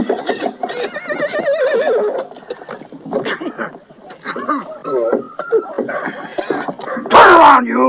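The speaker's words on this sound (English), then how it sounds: "Jack, I found a horse" A horse whinnies loudly near the end, a shrill wavering cry, after a stretch of people talking and shouting.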